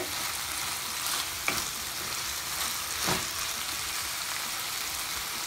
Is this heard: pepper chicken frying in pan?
yes